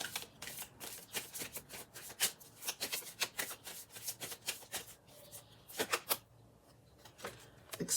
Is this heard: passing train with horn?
no